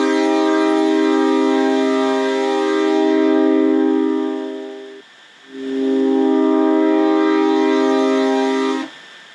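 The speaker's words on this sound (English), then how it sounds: "let's have a listen how high frequencies are being filtered from the sawtooth wave" A synthesized sawtooth wave passed through a low-pass filter drones as a buzzy, harmonic-rich sustained tone, heard in two long held notes separated by a brief gap, loud and alone.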